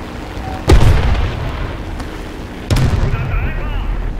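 Bombs dropped from a biplane explode in War Thunder, two heavy booms about two seconds apart over a constant engine drone, the second followed by a low rumble.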